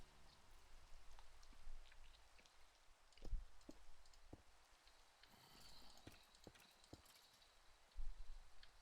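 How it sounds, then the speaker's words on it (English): Rain falling in the video game Minecraft, a steady faint patter with scattered sharp drop clicks and a few louder taps, heard alone with no talk. "the rain's kind of screwing with me"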